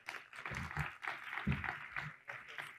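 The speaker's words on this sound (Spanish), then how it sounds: "Así que les pido por favor un fuerte aplauso para Carlos." Audience applause at an agtech conference session welcoming a speaker to the stage, a steady wash of clapping with a murmur of crowd voices mixed in throughout.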